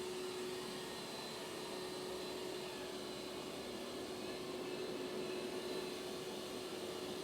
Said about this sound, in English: Now we'll do a vacuum test with the Eufy X10 Pro Omni